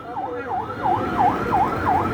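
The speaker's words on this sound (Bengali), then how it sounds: "অ্যাম্বুলেন্স এই পাশ থেকে চলে যাওয়ার ব্যবস্থা করে দাও" Ambulance siren at a street protest, a repeating wailing sweep cycling roughly every third of a second, fairly close and loud over a rumbling motor vehicle background.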